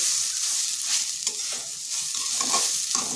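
Radish frying in a pan for a vegetarian dish, a continuous close sizzle with light stirring scrapes and soft crackling pops.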